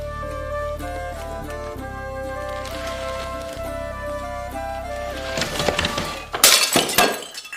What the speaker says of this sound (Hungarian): eltörtem a Hunyadi Mátyás úr edényét